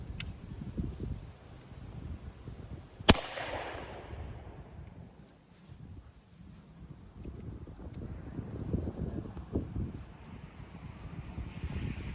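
An old .410 long-barrel shotgun fires once outdoors, a single sharp crack with a short fading tail, heard over steady gusting wind noise on the microphone.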